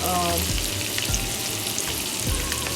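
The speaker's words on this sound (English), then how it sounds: "now we're gonna saute some onions" White onions sautéing in bacon grease, a steady close sizzle overlaid with low thuds and a few tonal clanks of a spatula or pan being handled.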